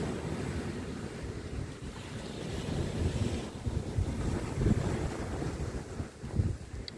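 Wind at the seashore beside the pier at Clacton, UK, while sea fishing, a steady blustery rumble buffeting the microphone over the low wash of waves, continuous and fairly loud.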